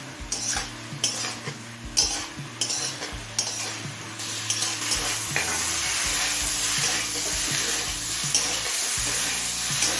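Green banana curry with turmeric, chili and cumin frying in a pan, with a loud, continuous sizzle and utensil scrapes and clanks from frequent stirring.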